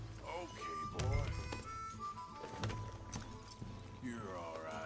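Horse hooves clip-clop at a trotting pace beneath voices talking over them, in the video game Red Dead Redemption 2.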